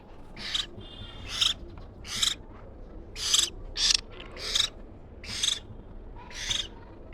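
Hill myna chicks give a series of about nine harsh, raspy begging calls for food, evenly spaced and close by, over a quiet background.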